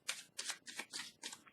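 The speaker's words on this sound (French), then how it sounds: "Je peux bien piger une carte sur la zone d'eau" Tarot cards are riffled and drawn in quick, soft bursts, about five brisk shuffling rustles in a row, close and quiet.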